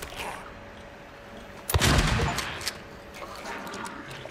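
A single booming pump-action shotgun blast goes off in the Silent Hill 2 Remake video game, rising sharply out of a low ambient drone and trailing off in a short rumbling echo.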